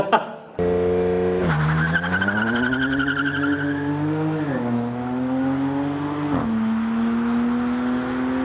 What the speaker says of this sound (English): We have done many flybys down the original home straight of this racetrack.